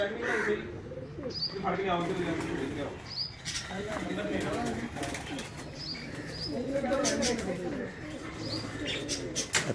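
Pigeons at a breeding setup on a farm coo in repeated soft, throaty phrases with a few chirps and some wing rustling, while someone talks nearby over them.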